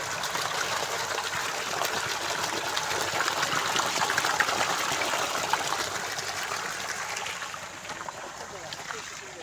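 Water gushing steadily from a two-and-a-half-inch outlet fed by a SELKON solar BLDC pump on two panels drawing from an open well in Tiruchengode, a continuous broad splashing rush with a faint voice in the background.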